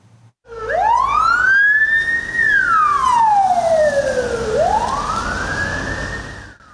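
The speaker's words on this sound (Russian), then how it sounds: "С включенной сиреной и проблесковыми маячками с территории станции выезжает на очередной вызов карета скорой помощи." Ambulance siren on a Russian emergency vehicle pulling out of a station, a loud, close wailing tone that sweeps up and down in long slow cycles and plays alone.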